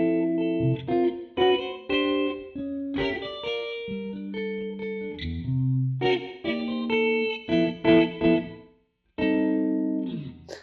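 Clean electric guitar notes and chords from a Jazzmaster played through an amp with no reverb, dry and close, with short pauses between phrases and no spoken voice.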